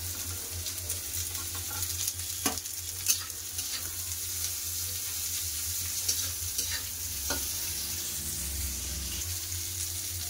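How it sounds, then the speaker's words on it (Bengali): Steady sizzling of salted, turmeric-coated bitter gourd frying in hot mustard oil, with occasional soft clicks and scrapes in the pan; no voices. "তেল গরম হয়ে গেছে, এবার উচ্ছা ভাজা দিয়ে দেবো।"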